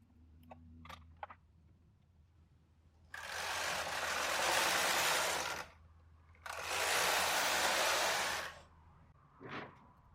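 A knitting machine carriage is pushed across the needle bed while knitting a lace shawl, making two long loud whooshing, rattling sweeps separated by a brief pause, preceded by faint clicks and handling noises.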